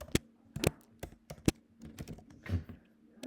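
Keys clack on a computer keyboard as code is typed, a close, uneven run of sharp taps with short pauses between bursts.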